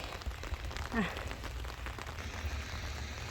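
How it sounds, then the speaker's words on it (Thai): Light rain patters steadily on surfaces outdoors as a steady soft hiss, while someone talks over it. "นี่ก็ถือว่า ฝนไม่ตกแรงนะคะ"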